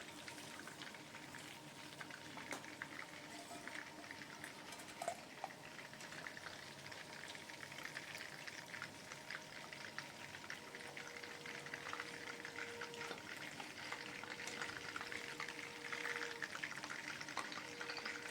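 Chicken pakoras deep-frying in oil, a faint continuous bubbling crackle with scattered pops and a thin tonal hum in the background, steady throughout and fairly quiet, no talk.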